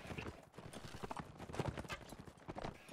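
Many horses' hooves clip-clop in a busy, continuous patter during a video game battle in UNAC, with faint occasional whinnies mixed into the dense shuffling, and no talk.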